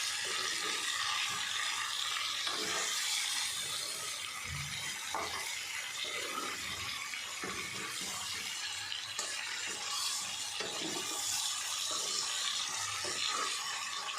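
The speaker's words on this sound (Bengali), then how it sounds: "আলু কপির সাথে সাথে পেঁয়াজটাও ভাজা হয়ে যাবে।" Onion with ginger frying among potatoes and cauliflower gives a steady, dense sizzle with occasional stirring scrapes running the whole time, close and even, with no talk.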